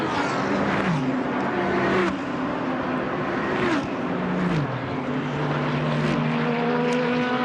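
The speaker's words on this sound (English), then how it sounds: "the leading 5 cars, all lockstep, covered by 5 seconds along Sandown's long front straight." GT race cars from the 2025 GT World Challenge Australia roar along Sandown's long front straight in a tight pack. Loud, continuous engine howl with overlapping tones that drop sharply at gear changes as the cars pass.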